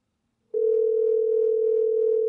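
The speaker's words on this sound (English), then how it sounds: "I've got the call going right here. It's ringing." A steady electronic calling tone on a mobile VoIP phone app starts after a brief silence and holds continuously, loud and clean with no speech.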